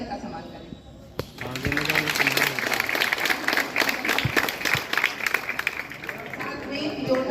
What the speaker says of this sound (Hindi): साथ में जोरदार तालियों के साथ,